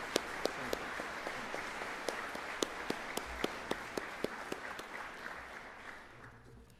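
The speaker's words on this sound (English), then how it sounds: "Let's give these 2 gentlemen a round of applause in gratitude." An audience at a summer graduation ceremony claps in gratitude for two board members, a moderately distant, thin applause with a few sharp individual claps standing out, fading toward the end.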